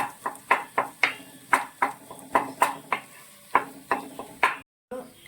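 A thick banana sweet mixture is stirred steadily in a pan, a rhythmic series of about a dozen scraping, squelching strokes roughly twice a second, close and distinct, with a brief gap near the end.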